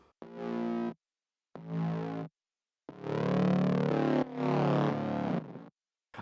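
An organic-sounding bass synth from a Serum preset plays a short phrase of growling, buzzy notes, two brief hits then two longer sustained tones, with no talking.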